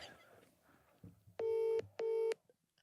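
A telephone being dialed for a prank call to a joinery business: two loud, steady electronic keypad tones, each about a third of a second long, after faint handling noise.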